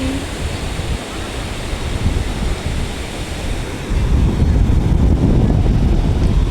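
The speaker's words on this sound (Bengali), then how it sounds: "সমুদ্রের যে শব্দ অসাধারণ" Waves wash steadily onto a Cox's Bazar beach in broad roaring surf, growing louder partway through, with some wind noise against the microphone.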